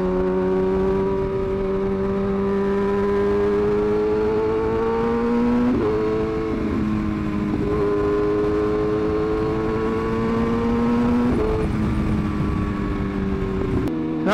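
A Kawasaki ZX6R motorcycle engine drones loudly and close, holding steady revs with a few brief dips and shifts in pitch, and no talking over it.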